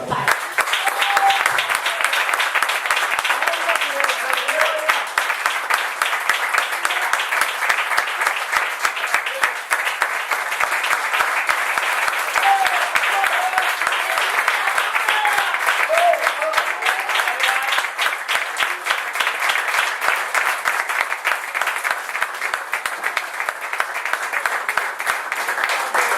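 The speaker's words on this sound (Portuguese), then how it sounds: "Uma salva de palmas para o Pai." A church congregation applauds in sustained, dense clapping that holds steady and loud throughout, with no break or spoken voice over it.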